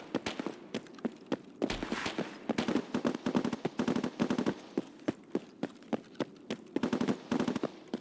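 Rapid sniper and automatic gunfire in a VR video game, a dense run of sharp cracks and bursts repeating steadily without pause, loud and close, with no talk.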